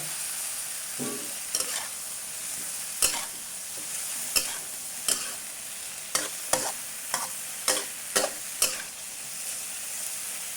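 Pork meatballs stir-fried in a hot pan for a young-chili stir-fry, with a steady sizzle and repeated sharp scrapes and clacks of a spatula against the pan.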